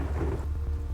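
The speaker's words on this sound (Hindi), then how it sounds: "अचानक एक तेज बिजली कड़कती है।" Thunder cracks during a heavy rainstorm over a pond, with deep rumbling and steady rain noise throughout and a sharp bright burst at the very end.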